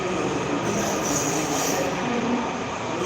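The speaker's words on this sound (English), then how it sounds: "That train ain't got nobody in it" A train rolls by close and loud, its wheels squealing on the rails in a sustained high screech over a constant rumble for about three seconds.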